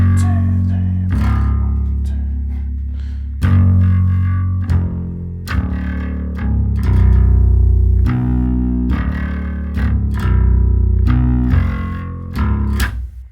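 A bass guitar played through heavy distortion: a series of plucked, gritty notes on a four-string bass, each ringing out for a second or two, loud and up close.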